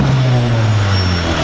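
A Honda Civic EG hatchback engine holds a loud, steady rev on launch control, a sustained drone at close range.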